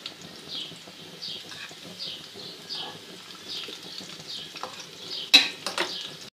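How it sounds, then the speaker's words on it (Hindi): Garlic sizzles as it browns with chillies in a hot pan for a dal tadka, a soft continuous frying hiss broken by occasional stirring scrapes and one sharper utensil knock near the end. "तो हल्का सा ये ब्राउन होता है लहसुन"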